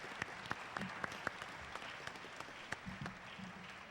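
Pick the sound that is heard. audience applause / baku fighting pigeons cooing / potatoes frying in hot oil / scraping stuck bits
audience applause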